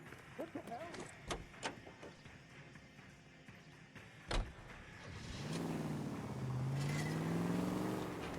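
A car is driven in the video game L.A. Noire. A few sharp knocks and thuds come first, then the engine swells into a steady, rising drone while someone talks over it.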